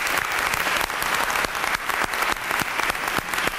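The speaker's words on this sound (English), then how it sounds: "we give Juan a round of applause to thank him for his insights" A room full of people gives a loud, continuous round of applause at a civil rights talk, dense clapping filling the whole stretch with no speech.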